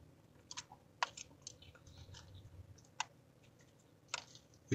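Someone eats a snack outdoors at a park, with several sharp, close crunching bites separated by pauses over a low ambient hum.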